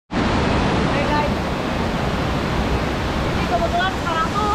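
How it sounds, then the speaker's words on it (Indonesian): Loud, steady broadband rush of heavy rain falling near a waterfall, continuous and close, with no pauses. "kebetulan sekarang tuh hujan ya, waktu ini hujan"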